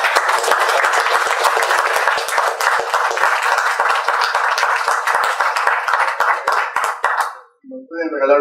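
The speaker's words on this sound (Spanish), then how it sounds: "un fuerte aplauso para" An audience at a corporate event applauds in a dense, loud burst of clapping lasting about seven seconds, then fades as a voice begins speaking.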